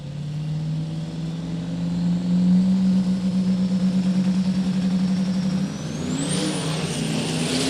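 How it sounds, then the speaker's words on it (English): 1970 GMC diesel pickup truck launching down a drag strip, a loud engine roar that climbs steadily in pitch for several seconds before a turbo-like whistle rises as the truck pulls away. "Wyatt on a heater in the diesel pickup truck."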